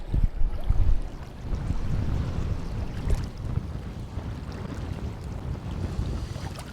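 Strong wind buffets the microphone on a beach shore while surf fishing for whiting and bream, a steady low roaring gust with surf and water wash beneath, loud and continuous throughout with no voices.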